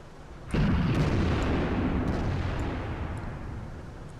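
An M53 self-propelled artillery shot strikes a Tortoise tank in the World of Tanks video game, a single heavy boom that bursts suddenly and then rumbles away over a few seconds.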